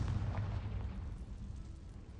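Confringo fire spell going off in the Hogwarts Legacy video game, a loud rumbling blast with a heavy low boom that carries on as a sustained roar, with no talk over it.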